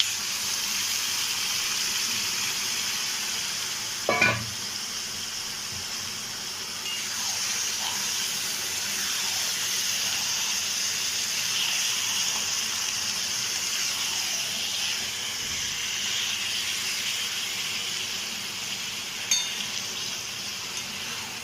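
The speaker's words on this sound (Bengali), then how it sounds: "এবার আমি মাংসটা ঢেলে দেবো।" Meat tipped into a pan of deep-fried reddened onions, giving a steady broad sizzle that runs throughout, with a couple of brief clatters from the pan near the start and end.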